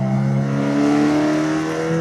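Car engine held at steady high revs, a loud, close, continuous tonal drone with a strong harmonic hum and no speech over it.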